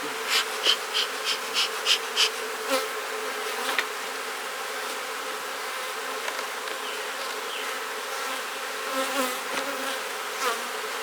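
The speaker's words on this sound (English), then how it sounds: "We'll have to smoke those bees down a little bit." A dense, steady hum of many bees buzzing close by at an open hive, with a few sharper individual buzzes passing near early on.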